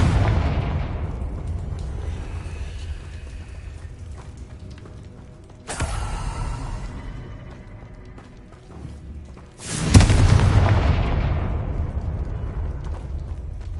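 Two loud fiery blasts from the Confringo spell in Hogwarts Legacy, each a sudden broadband burst fading over a few seconds, over a low rumbling game ambience with no talking.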